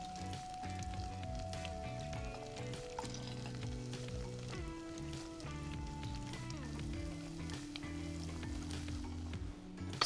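Food fries in oil in an overcrowding-prone frying pan, a steady dense sizzle and crackle running throughout under sustained tonal background sound, with no talking.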